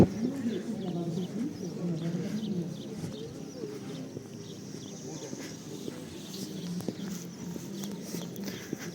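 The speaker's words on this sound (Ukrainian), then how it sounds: "Голуби." Low pigeon cooing in the background in central Truskavets, Ukraine, with footsteps, distant murmuring voices and general outdoor bustle around it.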